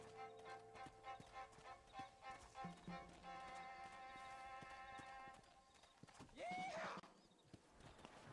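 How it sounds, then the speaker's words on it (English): Horse hooves clip-clop steadily in Red Dead Redemption, set on a ranch in the game, with repeated rhythmic hoofbeats close by, a whinny partway through, and game music underneath. "Let's hitch up the horse."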